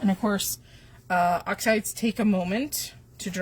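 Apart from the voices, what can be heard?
No everyday noises stand out.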